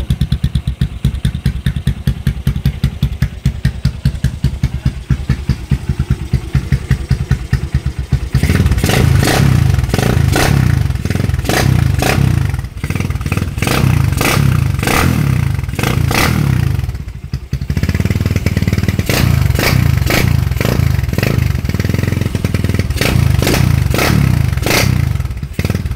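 A Honda Supremo 200cc motorcycle fitted with a kalkal exhaust pipe idles with a rapid, even putter, then revs hard into a loud, rough, pulsing roar that dips once before surging again.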